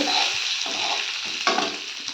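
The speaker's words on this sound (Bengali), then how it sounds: "তো এই দেখুন আলুটা ভেজে নিচ্ছি। একটু ভালোভাবে ভেজে নেব।" Potatoes fry in a pan with a loud, steady, close sizzle, broken by a few stirring scrapes and no talking.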